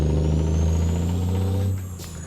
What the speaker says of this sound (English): you can hear the sound of the engine with the windows down